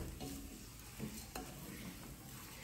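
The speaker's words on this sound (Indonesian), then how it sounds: "diaduk-aduk, ditumis dulu bulgurnya" Bulgur sautéing in a pan with quiet scraping stirs and a soft, faint sizzle, a few utensil scrapes and knocks standing out over the low, steady frying hiss; no talking.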